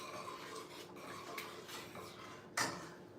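A spoon stirs broccoli cheddar soup in a pot, giving soft scraping and clinking against the pot under a low kitchen background, with one sharper clack near the end.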